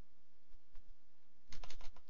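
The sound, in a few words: typing on a computer keyboard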